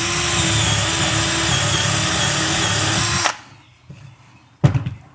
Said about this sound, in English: to grab a piece of wood and drill a hole on it